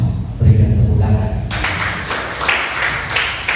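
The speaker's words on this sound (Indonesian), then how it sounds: "Berikan tepuk tangan." Burst of applause from a congregation during an Indonesian church worship service, crowd clapping rising suddenly partway through and continuing with scattered claps, after a preacher's voice at the start.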